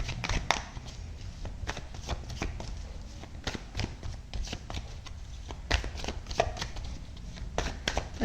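Tarot cards shuffled and tapped close up, with quick irregular clicks and flutters over a low steady room rumble, no voices.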